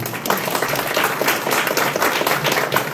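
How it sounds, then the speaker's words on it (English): An audience at a Democratic congressional candidate forum in Hancock County applauds. Close, loud clapping from a modest crowd continues without a break and with no talk. "You can clap for him."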